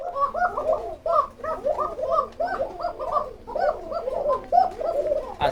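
Dense flock of pigeons at a pigeon farm keeping Lahori, Mundian and Modena breeds, cooing nonstop in overlapping throaty rolls, close and fairly loud with no talk.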